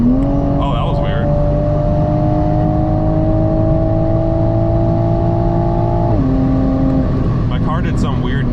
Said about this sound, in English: My car did some weird downshift thing.